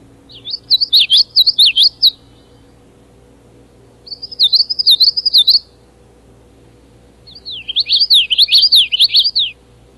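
Three separate bursts of bright, rapid bird song, each a quick run of repeated 'witchety' phrases, clear and close against quiet background hum.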